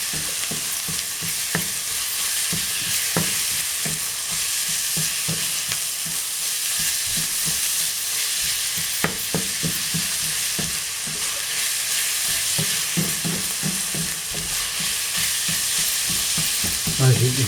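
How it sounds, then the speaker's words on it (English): Ground beef mince frying in a pan, with a steady sizzle broken by frequent soft scrapes and stirring knocks throughout, close and continuous with no talking. "that's cooking away nicely. The mince is beginning to change colour."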